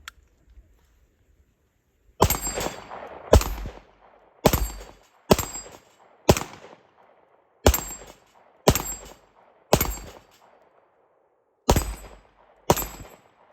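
A Tisas Duty fullsize 9mm 1911 pistol fires ten sharp, loud shots at uneven intervals of about a second, each crack followed by a short decaying echo.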